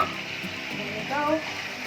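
Sautéed fish fillet with green onion is stirred in a pan, a moderate sizzle with soft scraping movements and a faint voice-like tone partway through.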